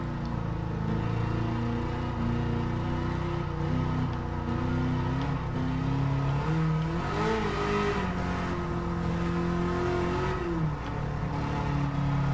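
A car engine revs and drives at a track in Gran Turismo 7, a steady loud mid-pitched drone that rises and falls with the throttle and carries on through the whole stretch.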